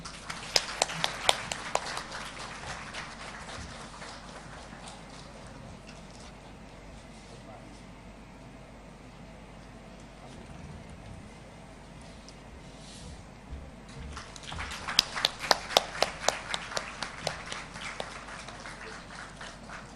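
Conference audience applauding speakers, with bursts of clapping at the start and again near the end, separated by a long quieter stretch of room noise and murmur.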